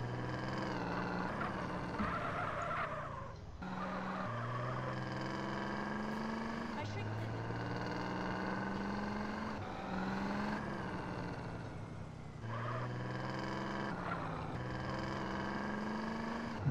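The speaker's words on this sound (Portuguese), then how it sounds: "Tem um carro, hein, galera, andando pela rua aqui" A video game car drives along a street, its engine droning and repeatedly rising in pitch through gear changes, steady and moderately loud under someone speaking Portuguese throughout.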